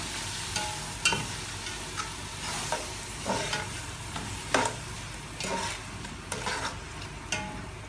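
Pieces of lamb leg sautéing with salt, pepper, cinnamon and spices for a Saudi kabsa, a low constant sizzle cut by sharp, evenly spaced scrapes and knocks of a spoon turning the meat, close up with no voices.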